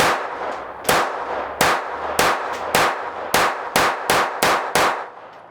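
A Ruger LCP II .22 pistol fires Federal 40 grain solid rounds one-handed at 15 yards, nine sharp, loud shots spaced at a steady, slightly quickening pace with a brief ring after each.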